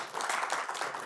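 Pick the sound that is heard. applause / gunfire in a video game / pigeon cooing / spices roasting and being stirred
applause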